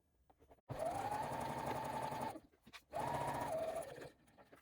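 Sewing machine stitching along the bottom of a backpack pocket, running in two steady bursts of whirring stitches, each about one and a half seconds, with a brief pause between.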